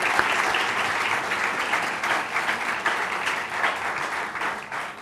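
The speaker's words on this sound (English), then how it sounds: "So big round of applause for all of them." An audience at an induction programme's award function gives a warm round of clapping for the winners, a thick, continuous crackle of many hands holding steady throughout.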